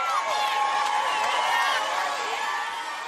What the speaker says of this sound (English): That was the sound of crowds cheering on vehicles that were transporting released hostages